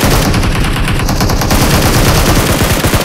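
Gunfire in the video game PUBG Mobile: rapid, loud, dense bursts of automatic shots crackling continuously with no pauses.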